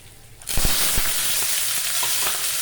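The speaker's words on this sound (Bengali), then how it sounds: "ঘি নিয়ে কটা তেজপাতা ফোড়ন দিয়ে দিলাম।" Bay leaves drop into hot ghee in a pan and break into a loud, steady sizzle that continues to the end, with a few stirring clicks near the start.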